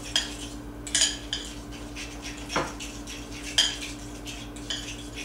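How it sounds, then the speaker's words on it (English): Low carb pizza dough being mixed in a bowl with a utensil, giving a few sharp scraping clinks against the bowl over a steady low hum, with no talking. "So just mix it together."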